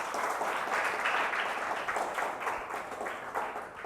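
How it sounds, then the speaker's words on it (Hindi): A congregation at a Hindi-language church sermon bursts into applause to thank Jesus Christ, a dense, steady crowd clapping at moderate volume from a short distance, slowly tapering off. "आइए हम जोरदार ताली से खुदावंद यीशु मसीह का धन्यवाद करते हैं।"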